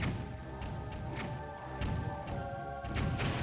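An enemy cannon fires in Zelda: Wind Waker, a couple of heavy crashing booms landing over game music, fairly quiet overall.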